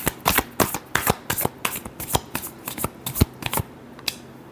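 Tarot cards being shuffled by hand, a close run of crisp riffling bursts and slaps in an irregular rhythm, each lasting a fraction of a second, fading out near the end.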